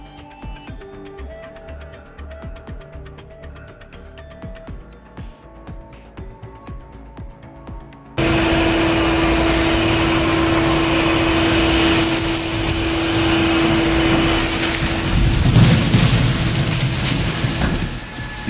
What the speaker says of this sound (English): The SR500 employs a single rotor configuration engineered for optimal aluminum bale processing.